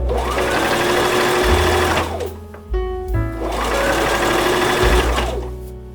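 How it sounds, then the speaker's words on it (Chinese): A sewing machine zigzag-stitches thin elastic onto a stuffed toy pig's curly tail, running loud and steady in two long bursts separated by a brief pause with clicks and a slowing motor. "接着一边拉紧松紧带，一边用之字形继续把松紧带缝上 去"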